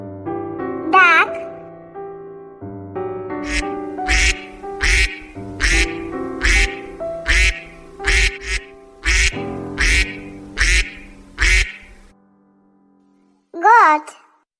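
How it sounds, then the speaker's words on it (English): A duck quacks about a dozen times in a steady rhythmic run, each quack short and loud, over cheerful children's music, with a brief squeaky call at the start and the end. "Duck."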